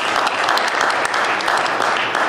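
Loud, dense audience applause for a panelist at a comics-in-Hollywood convention panel, a continuous close roar of many hands clapping with no pauses.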